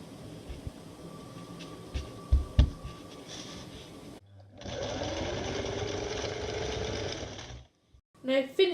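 A sewing machine runs in a steady sustained burst while stitching a long gown, preceded by quieter handling noises and a few clicks, with a short pause and some talking near the end.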